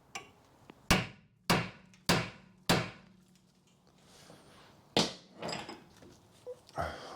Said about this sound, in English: I'm going to give it a tap with a hammer first, just to hopefully loosen it.